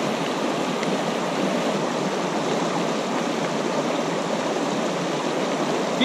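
A river rushes steadily during a Thanksgiving Day hike in Red River Gorge, a close, dense, unbroken roar of flowing water with no talk.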